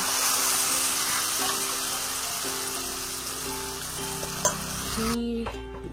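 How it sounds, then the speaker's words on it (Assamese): Turmeric and spices fry in a pan, making a continuous close sizzle with light stirring and utensil scrapes. Near the end the hiss drops away abruptly, leaving faint clinks. "হালধিখিনিও ধুনীয়াকৈ হালধি কেঁচা গোন্ধটো যোৱালৈকে ভাজি ল'ম"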